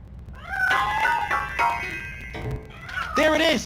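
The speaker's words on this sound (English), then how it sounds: "That cat must be hiding inside." A cat in the Robocop video game meows several times, drawn-out wavering cries near and clear, with pauses between calls and some speech alongside.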